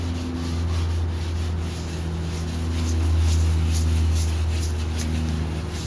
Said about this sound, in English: Just squeegeeing this down,